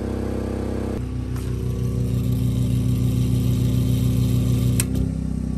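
A large portable generator engine runs steadily under heavy electrical load, briefly pushing toward 4,900 watts, its loud droning hum holding near and constant with a slight shift in pitch near the end.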